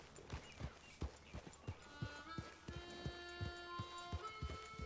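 Steady horse hooves clip-clop in Red Dead Redemption 2, a regular trotting rhythm of sharp knocks, fairly faint, with a soft tonal game background underneath and no talking.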